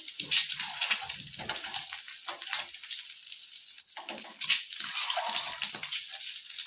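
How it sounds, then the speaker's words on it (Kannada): Boiled eggs frying in oil for an egg masala, a bright steady sizzle that swells and fades with bursts of spattering, close and fairly loud, no talk over it. "ಹಂಗಾಗಬಾರ್ದಂದ್ರೆ ಸ್ವಲ್ಪ ಈ ಎಣ್ಣೆಯಲ್ಲಿ ಫ್ರೈ ಮಾಡ್ಕೊಬೇಕಿದ್ದಾನೆ"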